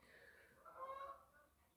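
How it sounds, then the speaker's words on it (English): Two geese flying past a window give a faint, distant honk that rises briefly and fades within a second or two over quiet room tone. "these two geese just flew by the window"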